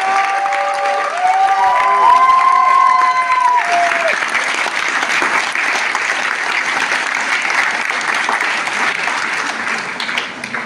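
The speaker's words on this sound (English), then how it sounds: "Give yourself a big round of applause" A large seminar audience on the final day of a Millionaire Mind Intensive breaks into sustained, loud applause with some cheering, while music and a speaker's voice carry over the first few seconds.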